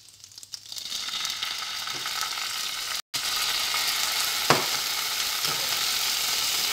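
Ginger garlic paste sizzles and fries in a pan with cumin, a steady loud crackling hiss, briefly cut off midway, with a few scraping stirs of a utensil.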